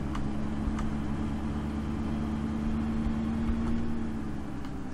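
A truck engine from Farming Simulator 15 on the Ammergauer Alps map drones steadily at a moderate level, with a low, even hum and a slight tonal whine running throughout.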